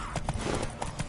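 Horse galloping in the video game Witcher 3, with quick rhythmic hoofbeats, close and steady, over a brief faint background.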